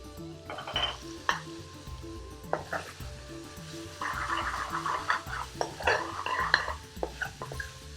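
Fresh tomato hits a hot pan of bhuna chicken, bursting into a loud sizzle, with a spoon scraping and stirring in uneven strokes and a few clanks of metal against the pan.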